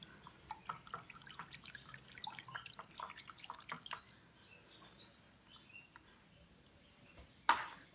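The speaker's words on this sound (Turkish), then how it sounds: "orkidemi güzel yıkıyorum şöyle kök kısımlarını" Orchid roots washed under water, soft close dripping and splashing in the first half, fading to a faint trickle, with one sharp clatter near the end.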